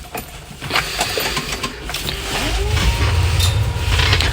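On a farm telehandler, the ignition clicks on and a cooling fan starts up, a steady whirring hum that swells and holds at close range, with no talk over it.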